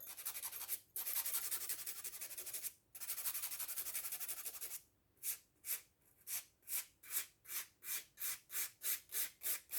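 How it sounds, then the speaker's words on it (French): A nail file shapes an acrylic gel nail into a rounded baby-boomer style. A few long, drawn-out rasping strokes give way to a quick, even run of short, close-up scrapes. "Et là ensuite, tout simplement, on lime un peu de façon arrondie."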